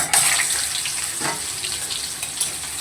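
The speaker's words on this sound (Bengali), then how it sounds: "তেলটা গরম হয়ে গেছে পটলগুলোকে দেখো সব দিয়ে দিলাম" Pointed gourd (potol) pieces hiss and sputter as they hit hot oil in a wok, a dense close sizzle with bright crackles near the start that settles into a steady fry.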